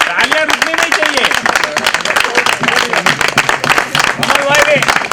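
Clapping from an annual day celebration audience, continuous and fairly loud, mixed with a speaking voice that carries on over the hands.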